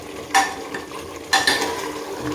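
A spoon scrapes through chicken curry with green chillies in a pan after the oil has separated, giving two distinct scraping strokes over a faint, steady background hiss.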